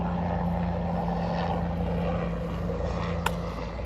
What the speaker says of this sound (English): Helicopter flies over.